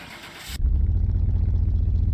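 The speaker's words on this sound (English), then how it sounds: "Let's see what it sounds like starting up." A finished car's engine cranks and catches in Car Mechanic Simulator 2021, then settles into a loud, deep, steady idle. A brief burst of other noise comes just before the start.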